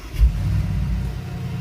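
A 2022 Mercedes-Benz G63 AMG engine starts, a brief low thump at ignition settling at once into a steady, loud, deep rumble that carries through to the end.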